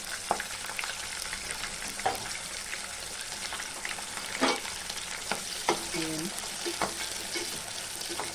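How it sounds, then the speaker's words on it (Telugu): Green chillies and other cut vegetables frying in hot oil in a pan, a steady sizzle with intermittent stirring scrapes and clinks from a utensil, no talking. "ఇవి కూడా కొంచెం బాగా మగ్గే వరకు మనం వేయించుకోవాలి"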